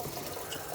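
Water being added to a container while cooking, a brief steady splashing pour, close and fairly faint.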